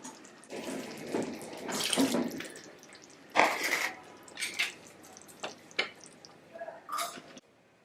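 Water pours from a tap into a cooking pot for Pongal kuzhambu, in several quiet, uneven bursts of splashing and trickling separated by short pauses.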